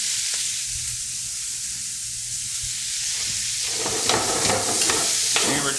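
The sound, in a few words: onions, sausage and celery sautéing in a pan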